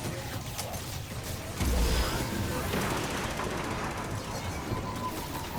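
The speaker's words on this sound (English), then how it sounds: "this is the pulse rifle" Pulse rifle bursts fire rapidly in Destiny 2, a dense stream of sharp game gunfire with a thicker, louder stretch partway through. Busy game effects play underneath.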